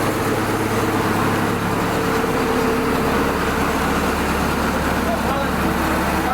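A 1930 Ford Model A pickup engine idles steadily nearby with a low, even rumble and a broad mechanical hiss that stays constant throughout.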